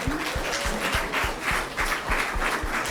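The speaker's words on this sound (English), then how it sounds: "Let's give her a round of applause" Audience applause at a motivational college event as a volunteer comes up to the mic, a steady wash of clapping with a few distinct near claps standing out.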